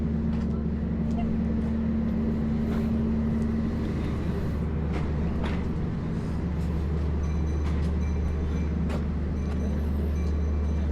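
Steady idling diesel rumble with a low hum from a train standing at Cipendei station in the cool morning for a brake check before a steep descent, continuous and fairly close, with faint clicks and noises around it.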